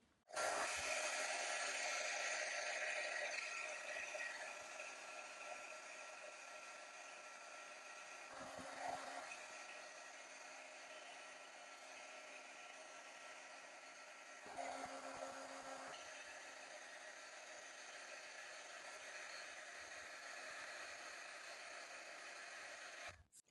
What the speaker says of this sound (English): So I have my heat gun here.